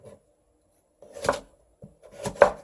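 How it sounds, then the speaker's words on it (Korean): A knife cuts radish into small bite-size pieces on a board for cheonggukjang stew, two short bursts of close, crisp chopping strokes separated by quiet. "작은 사이즈로 썰어 놓을게요"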